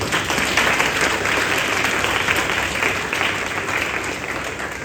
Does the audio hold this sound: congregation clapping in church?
yes